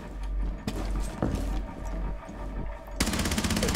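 Gunfire in the video game Rainbow Six Siege: sharp rapid shots in short bursts, ending in a loud sustained automatic volley, close and prominent with no speech.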